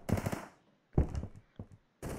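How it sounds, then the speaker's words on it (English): Gunfire in the Roblox video game comes in three short bursts of rapid automatic shots separated by brief pauses, sharp and fairly close. "I hear shooting."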